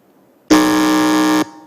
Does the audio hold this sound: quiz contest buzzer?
yes